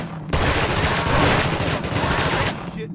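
Dense machine gun fire in the video game The Thing, a loud sustained burst of rapid shots that starts abruptly and runs for a couple of seconds before cutting off.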